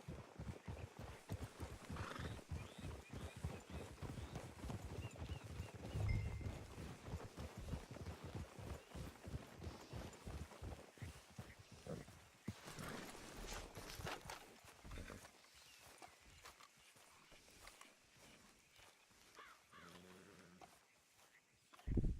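Horses in the video game Red Dead Redemption 2, with rapid rhythmic hoofbeats that fill most of the stretch, a whinny partway through, and quieter moments near the end.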